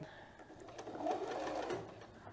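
A sewing machine stitches a DIY face mask in a short, close burst of rapid mechanical whirring, with a voice faintly underneath.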